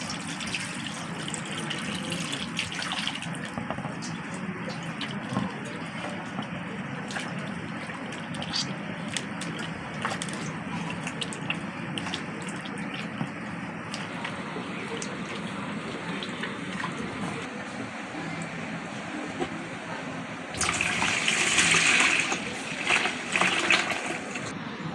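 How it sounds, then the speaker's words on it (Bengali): Water is poured off and fresh water added while washing flour dough in a home kitchen: a steady, soft running and gushing flow throughout, swelling into a louder splashing pour near the end. "এইভাবেই আমি জলটা এবার ফেলে দেব। আবারও জল দিয়ে দেব।"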